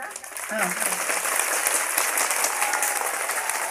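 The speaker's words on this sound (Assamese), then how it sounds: "ছাত্ৰ ছাত্ৰীসকলে হাত চাপৰি দিবা" Schoolchildren at a primary school clap their hands together, a lively, fairly close burst of many small hands that starts after a brief pause and keeps going, with voices faintly mixed in.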